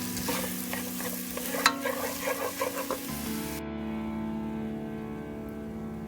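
Chopped onions stirred in hot oil for pasta give a steady sizzle with a few scraping stirs, then the frying fades into a quiet hum with no talking.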